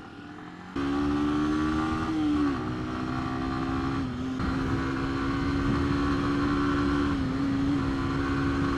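Lexmoto motorcycle ridden flat out, its engine droning loud and steady at high revs with small pitch dips as the throttle shifts, close to the rider and with no talk.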